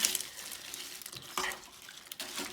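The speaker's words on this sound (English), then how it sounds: "Give it another stir." A spoon stirs pork ragu in a pot, making soft scraping and sloshing sounds with a faint sizzle, close and quiet, with brief clinks.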